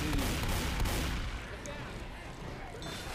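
Rapid gunfire in Left 4 Dead 2 during the Dead Center campaign, dense overlapping shots loud at the start and easing slightly, with a player voice mixed in.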